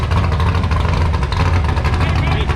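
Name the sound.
super truck engine running with new racing mufflers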